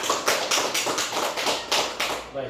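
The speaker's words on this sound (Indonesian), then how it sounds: "tepuk tangan untuk semuanya" A small group of people claps at an Indonesian physical education program presentation, with irregular, loosely spaced bursts of hand claps that are fairly close and repeat steadily for a couple of seconds.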